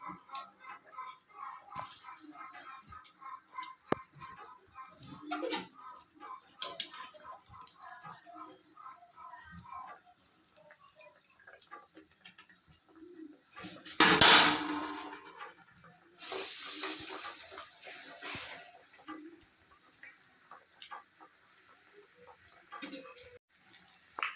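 Masala vadas dropped into very hot oil, starting with faint kitchen clatter, then a sudden loud burst of sizzling midway that settles into a steady, bubbling frying hiss.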